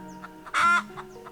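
On a small Australian farm beside a food forest, a chicken lets out one short, loud cluck amid faint quieter clucking and a low background hum.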